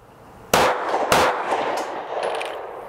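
Ruger MAX 9 Pro 9mm pistol firing two sharp, loud shots about half a second apart, each with a ringing outdoor echo that tails off, then faint metallic clinks in the quiet.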